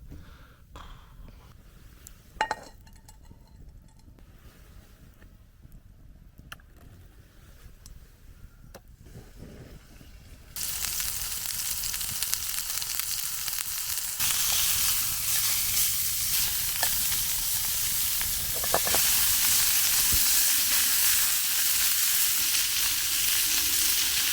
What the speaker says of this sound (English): it looks like everything is being done in the frying pan